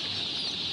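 Chickens clucking softly in a coop, a continuous low farmyard murmur of fowl with no clear individual calls standing out, steady and fairly faint throughout.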